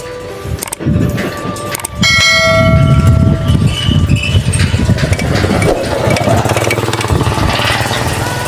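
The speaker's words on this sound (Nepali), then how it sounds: "अनि यहाँ यत्रो ठुलो बाइक आयो यार" A large motorcycle engine rumbles steadily nearby on a bridge in Nepal, loud and continuous, with a bell-like ringing tone briefly audible early on.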